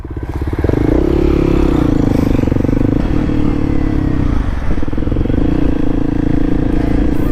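A Kawasaki KLX300SM motorcycle roars up close as it is ridden, its engine rising to a loud, steady, throbbing rev that holds for several seconds, with one brief dip partway through.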